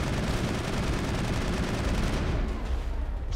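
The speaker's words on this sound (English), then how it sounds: "Is Tally shooting the rock that we're covering against?" Rapid bursts of gunfire from the Mass Effect video game form a loud, dense crackling barrage that continues nonstop and fades slightly at the end.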